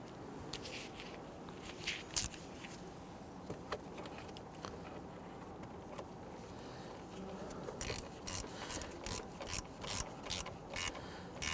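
Metal clicks and ratcheting from a wrench snugging down the positive battery terminal nut on a 2011-2017 Nissan Quest, faint and irregular at first, then a quicker run of louder ratchet bursts toward the end.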